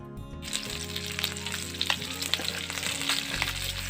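Silver carp pieces fry in a pan over medium heat, giving a continuous close, crackling sizzle with scattered sharper pops and spatters and no voices.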